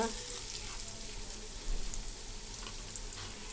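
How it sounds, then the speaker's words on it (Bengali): Whole spices such as cinnamon and white cardamom fry in a pan of oil for chicken biryani, giving a steady close sizzle with faint clinks and stirring throughout. "একটু লাল লাল করে ভাজবো।"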